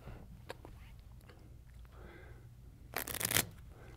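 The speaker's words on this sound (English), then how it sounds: "Now I want you to take and give that deck a shuffle." A deck of playing cards is shuffled by a card magician in a quiet room, with a faint ruffle early on and then a loud, quick riffle burst near the end.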